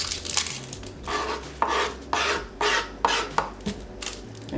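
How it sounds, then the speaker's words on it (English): A knife chopping a whole onion on a board, irregular sharp knocks with scraping in between, close and fairly loud with no talking. "I'm going to cut one full onion."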